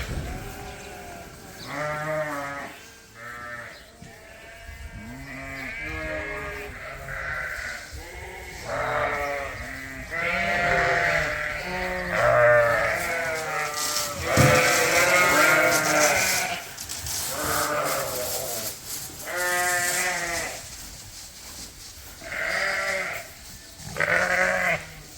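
Flock of sheep bleating repeatedly on a farm, many overlapping calls near and far, loud and continuous, with no talk.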